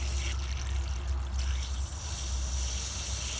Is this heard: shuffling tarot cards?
no